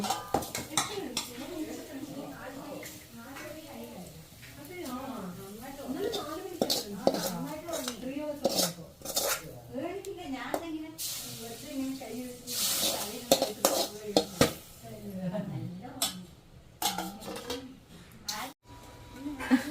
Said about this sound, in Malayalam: അമ്മ ഇവിടെ അതേ പാത്രം കഴുകിക്കൊണ്ടിരിക്കുന്നു